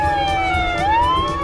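An ambulance siren wails loudly and close by, its tone sliding down and then climbing back up in a continuous sweep, with the low rumble of road traffic underneath.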